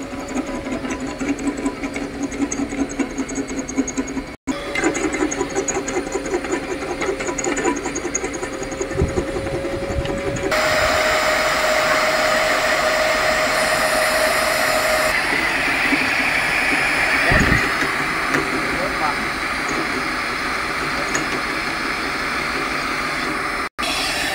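A homemade line boring machine powered by a 2800-watt diamond core drill motor whirs steadily and loudly throughout. Its pitch and load shift a few times, with brief clunks along the way.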